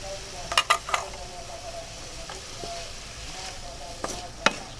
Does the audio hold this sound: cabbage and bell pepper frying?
yes